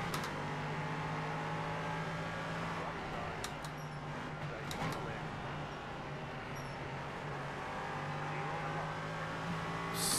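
A race car engine in the iRacing sim at Sebring drones steadily and fairly quietly, with a constant tonal whine and small shifts in pitch as it runs through traffic.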